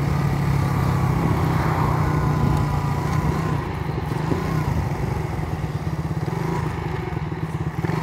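A modified Yamaha Mio 4-valve motorcycle racing a Raider 150 roars steadily and loud at close range, a dense droning engine note with rattling clatter running throughout.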